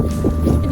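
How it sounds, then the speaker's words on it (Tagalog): Strong winter wind roars and buffets the microphone in a continuous, loud, low rumble outdoors on icy ground, with no talking. "Grabe ang lakas ng hangin guys."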